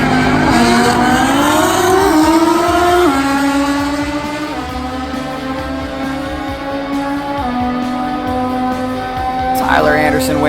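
Drag racing motorcycles, including a Suzuki Hayabusa, in the Pro ET final, with a loud sustained engine roar climbing in pitch through the gears, then a fresh shrill rise near the end.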